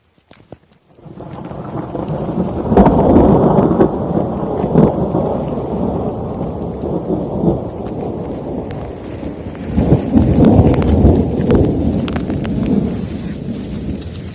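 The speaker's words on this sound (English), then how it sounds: "Day 3, a little bit of rain." Heavy rain falls steadily through a thunderstorm on a big-game hunting trip, with deep rolling thunder swelling near the start and again later, loud and close, no voices.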